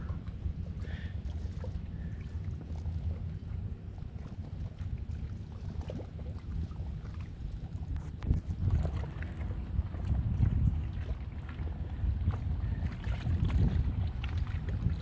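A boat circles on a lake at El Lago, Texas, its low motor drone faint and distant beneath gusts of wind buffeting the microphone.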